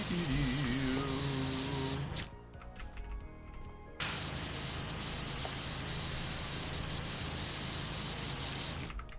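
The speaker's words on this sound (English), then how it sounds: "when I'm trying to spray these wooden planks, the way the water sound is being made is like, it's kind of irritating" Pressure washer spraying water onto wooden planks, a loud, steady broadband hiss with a low motor hum beneath, briefly cutting out for about two seconds before resuming continuously to the end.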